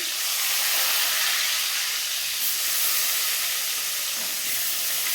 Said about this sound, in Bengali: দেখো বেগুনগুলো আমি এবার গোটা গোটা তুলে দেবো